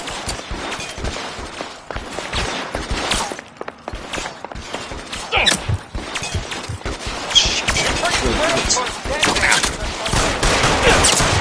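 Gunfire in the LA Noire video game: a loud, dense stream of repeated shots and impacts, some bursting like a fusillade, continuing with a voice speaking between them.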